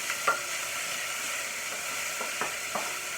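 Pancetta and onions frying in a pan on an AGA while being stirred, a steady soft sizzle with a few brief scraping stir sounds, no talking.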